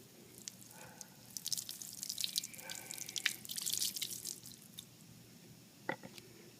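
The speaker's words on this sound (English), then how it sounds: "We have here a pitcher of just plain water, and let's pour it on and see how it goes." Plain water poured from a pitcher onto a ceramic-coated shoe, heard as a soft, close splashing trickle with scattered drips that runs for several seconds and then settles into a few isolated drops, with no talking.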